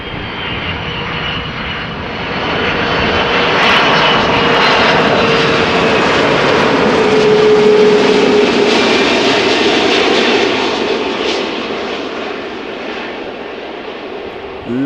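A KLM airliner, twelve years old, roars steadily at Amsterdam Schiphol Airport, its engine noise swelling after the first couple of seconds, holding loud through the middle and easing slightly toward the end, with no talk.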